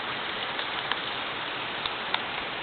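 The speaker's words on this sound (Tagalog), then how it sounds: "Ayun na, Umuulan na naman po." Steady monsoon rain of the habagat season hisses evenly and continuously at a moderate level, with a few faint drip-like taps scattered through it and no talking.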